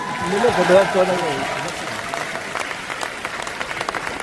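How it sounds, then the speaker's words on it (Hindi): Audience at an RCM program in Tyagraj Stadium, Delhi, breaking into sustained applause, with a voice talking over the opening moments before the dense clapping carries on alone. "अब ताली तो बहुत अच्छी है आपकी"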